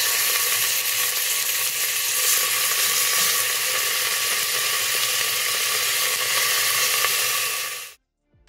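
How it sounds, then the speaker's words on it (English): Pork belly fries skin side down in a cooking pot with garlic and thyme, a steady, even hiss and sizzle close by that cuts off abruptly near the end. "The pork is starting to slightly browning up on the skin side."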